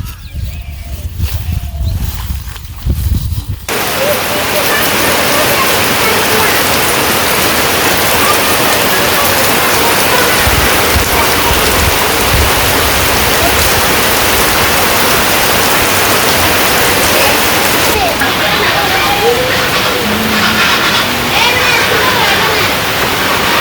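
Heavy rain pours down steadily in a loud, dense hiss that continues throughout, after a brief quieter opening.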